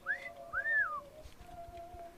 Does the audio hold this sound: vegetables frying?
no